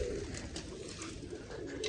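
Pigeons held in a loft coo softly against steady background hiss, the low murmuring calls faint and continuous throughout.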